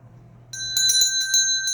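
A bright notification bell chime rings several times in quick succession, clear and close, following a near-silent start.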